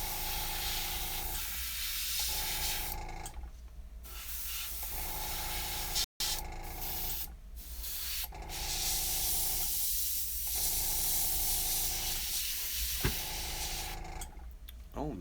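An airbrush sprays white paint onto an eagle walking staff, a steady close hiss in long bursts separated by short pauses, with no talking.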